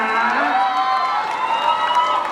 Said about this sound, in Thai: ขอเสียงปรบมือเป็นกำลังใจให้ทุกคนีด้วยนะคะ